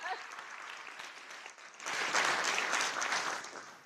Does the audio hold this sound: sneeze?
no